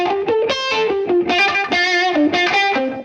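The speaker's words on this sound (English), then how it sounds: "So I'm using a different distortion preset that's in Saturn 2 that gives this a very nice sound." Lead guitar run through the Saturn 2 plugin on a heavy distortion preset, a dense, saturated buzzing tone playing a continuous melodic phrase of sustained notes, loud and upfront with no voices.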